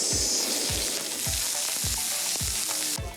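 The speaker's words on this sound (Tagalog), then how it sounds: "Once na mainit na yung ating pan, lagyan na tayo ng mantika para dun sa ating mga panggisa" Ginger and onion sauté in hot oil in a pan with a steady, close sizzle. Regular low thumps of stirring recur about twice a second.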